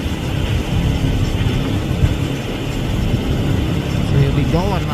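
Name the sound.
boat motor running on the river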